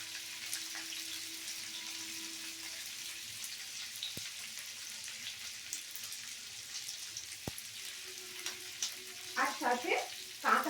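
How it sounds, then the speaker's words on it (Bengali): Cubed capsicum and onion fry in a pan with a steady hiss and crackle, and a few louder spattering bursts and stirring sounds come near the end. "এগুলো একটু ফ্রাই করব এখন"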